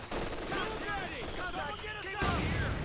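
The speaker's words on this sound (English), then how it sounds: "And that mortar was a pretty good shot there" Mortar fire from a Company of Heroes 2 battle, with steady gunfire and explosions rumbling throughout and a heavier blast near the end. A voice talks over the combat.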